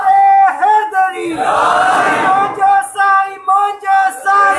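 At a religious gathering, a loud voice calls out slogans of Takbir, Risalat and Haidri and a crowd roars back in a big shout, the call and the answer alternating closely.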